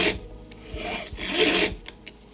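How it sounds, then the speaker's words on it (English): A fine file rasps over the flattened end of a tapered brass clock pin, a few close, steady strokes with short pauses between them and no voices. "very carefully run the fine file over the end of the tapered pin that we've already flattened"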